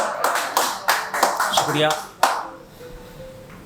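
Sparse, scattered clapping comes from a small audience at an Urdu poetry recital, a handful of uneven claps and taps that quickly die away, followed by a quiet voice.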